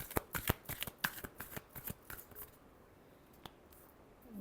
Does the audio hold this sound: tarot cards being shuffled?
yes